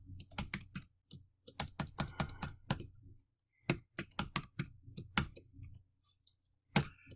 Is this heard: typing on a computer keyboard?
yes